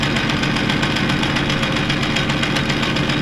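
Power winch pump and gear on an auctioned gamble run with a steady, loud ringing mechanical drone, a continuous engine-like hum with fine rapid pulsing and no break for the whole stretch.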